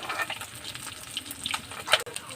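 Pieces of silver carp fry in hot oil in a home kitchen, giving a steady close sizzle with crackling spits and occasional louder pops.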